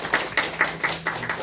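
Congregation at a Sunday church service clapping briefly, a few loose, rhythmic claps spaced about a quarter second apart, fairly close and alone.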